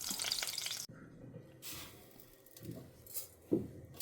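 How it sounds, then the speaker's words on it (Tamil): Mustard seeds and fenugreek spluttering in hot oil, faint crackles and small pops with a few scattered clinks, fairly quiet and close without talk. "இது கடுகு பொரிய ஆரம்பிச்சிடுத்து வெந்தயம் கூட லேசாக செவக்க ஆரம்பிச்சிடுத்து"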